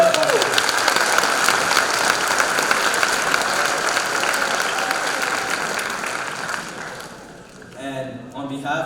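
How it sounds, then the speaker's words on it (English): Parents and guests applauding at a school graduation ceremony for the class of 2022, a sustained, dense wash of clapping filling a large room, fading toward the end before a speaker's voice returns. "A round of applause."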